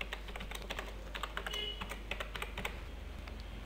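An administrator password is typed on a computer keyboard as a quick run of close, light key clicks, some rapid and some spaced, with no talking over them.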